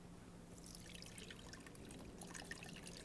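Grape juice from an Omega 8006 juicer is poured off from a cup in a steady, continuous trickling stream, close and fairly even throughout with no voices.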